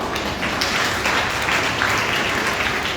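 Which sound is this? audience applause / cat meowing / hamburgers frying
audience applause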